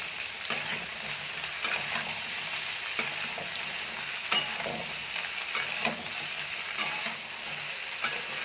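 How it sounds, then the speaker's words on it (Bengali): Taro stolons fry in a pan with onions and chillies as a spatula stirs them, a steady sizzle punctuated by regular scraping and tapping strokes against the pan, close and fairly quiet with no talking. "এটাকে নাড়াচাড়া করে দেব"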